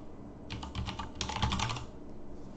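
Two quick bursts of keystrokes on a computer keyboard, close and fairly soft over a steady room hum.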